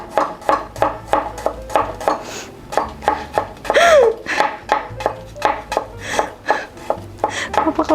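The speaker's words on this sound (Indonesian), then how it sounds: "si bawang merah ini kita iris-iris" Shallots are sliced with a knife on a board in a steady rhythm of close, crisp taps, about two per second, with a voice speaking briefly in the middle.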